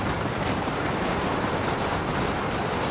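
A supply train in Red Dead Redemption rolls along the rails, a dense, steady rumble with a continuous clatter of wheels, loud and close throughout.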